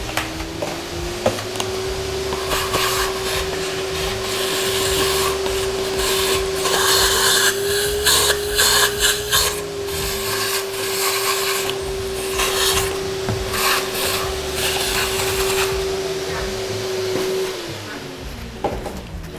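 A vacuum cleaner runs continuously while sucking dust from a Mahlkonig EK43 coffee grinder, a loud steady whine with rubbing and knocking noises as the nozzle moves, dropping away at the end.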